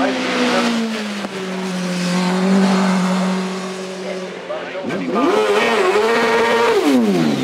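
An 1100cc motorcycle-engined Jedi single-seater launches at a Shelsley Walsh hillclimb. The engine holds a high buzzing drone, then screams up through rapid gear changes. It is loud and close, with a commentator's voice running underneath.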